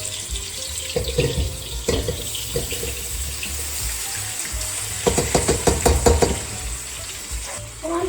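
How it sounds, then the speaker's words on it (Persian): Water is poured into a cooking pot of rice for Persian reshteh polo, giving a splashing, running flow with a few sharp knocks of the pot. No one speaks. "چون که برنجم یه مقدار هنوز خشکه، یه کمی هم آب بهش اضافه میکنم"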